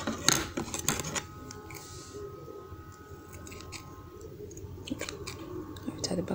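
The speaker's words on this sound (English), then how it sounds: "And trim off rough edges." Scissors trimming rough edges of aso oke fabric for a fan head band, with soft intermittent snips and clicks under quiet talk.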